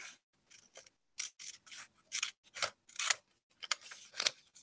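Scissors snip through a paper template for an Easter craft in a run of short, crisp cuts, close and alone in a quiet room, with brief pauses between strokes.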